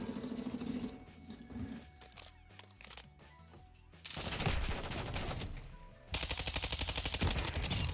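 Automatic gunfire during a Modern Warfare 2 Search and Destroy match, first muffled and distant amid game sounds, then two loud, close bursts of rapid fire.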